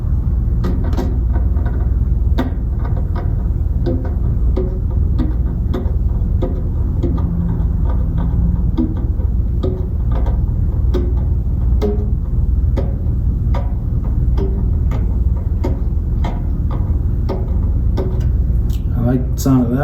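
A marching snare drum being tuned by tightening its tension rods, with repeated sharp taps on the head sounding close and fairly loud between the adjustments while a person talks over it.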